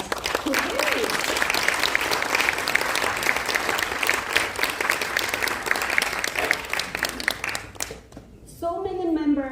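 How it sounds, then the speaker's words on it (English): Audience at a Toastmasters district conference breaks into sustained, dense applause for about eight seconds, then the clapping fades and a single voice begins speaking near the end. "So let's give another round of applause to Cassie."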